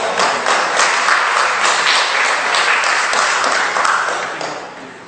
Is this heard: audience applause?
yes